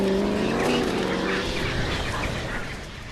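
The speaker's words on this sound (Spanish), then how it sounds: "El director nos quiere hacer una analogía entre el sonido del coche y el rugido de una bestia." A Corvette's engine roars past in the film I Am Legend, a loud rising snarl that shifts pitch as it revs, then fades away over about three seconds, with no speech.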